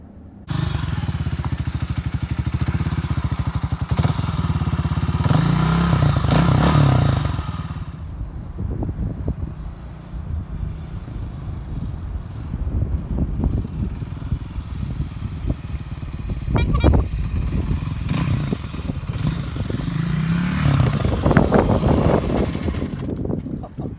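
Kawasaki KLX300R dirt bike engine on an off-road trail ride, a loud close steady drone that drops off, then rises again in revving surges with thumps and clatter, no talking.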